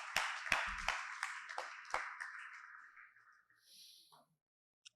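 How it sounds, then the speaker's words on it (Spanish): An audience applauds volunteers at a church Bible talk, starting with a burst of sharp, separate claps in a reverberant hall that thins out and fades within a few seconds, followed by a last stray tap. "Un aplauso a nuestros voluntarios"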